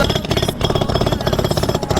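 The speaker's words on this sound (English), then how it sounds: "Jackhammer now." A jackhammer breaks up saw-cut pavement around a city traffic light base, a loud rapid pounding hammer rhythm running continuously close by, with only a brief pause.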